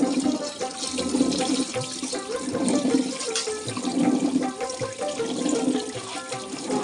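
Chopped nuts are rinsed under running tap water while preparing semolina halwa. The gushing, splashing stream is steady, loud and continuous throughout, with no voices.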